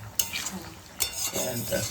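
Spices for goat trotters are stir-fried in a pressure cooker pot, with a steady sizzle, two sharp metal spatula clinks and scraping stirs.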